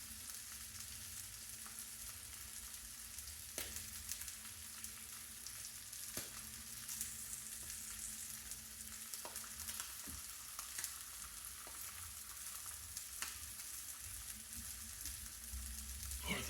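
Indian mackerel frying in a pan gives a steady, quiet sizzle that runs throughout, with occasional soft pops and ticks rising above the hiss.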